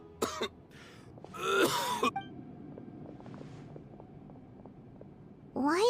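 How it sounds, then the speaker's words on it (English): Character coughing and clearing his throat in a Genshin Impact game cutscene, a few short rough bursts near the start and again at the end, with quiet ambient backing in between. "Why is he coughing?"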